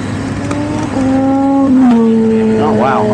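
A BMW S1000RR motorcycle engine drones steadily at high revs, its pitch stepping down through smooth quick shifts, loud and close.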